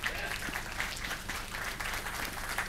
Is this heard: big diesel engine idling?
no